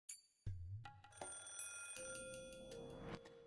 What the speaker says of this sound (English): As soon as I put the phone down, it rang again.